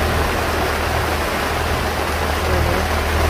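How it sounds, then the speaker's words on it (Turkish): Heavy rain pours onto a boat at sea in a steady, dense hiss with a low rumble underneath, continuous and close throughout. "Yağmur sesini de duyuyorsunuz."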